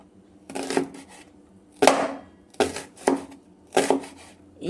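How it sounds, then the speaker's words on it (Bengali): A knife slices through onions on a board for birista in about six distinct chopping strokes, each a crisp cut with a short scrape, evenly spaced and close up. "এইভাবে কাটবো।"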